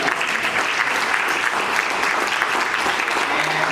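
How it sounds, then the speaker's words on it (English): A hall audience at a 50th anniversary celebration breaks into steady, sustained applause, a dense even wash of many hands clapping close and loud, with no voice standing out. "how about one for Phil Lubin and that staff that put all of this."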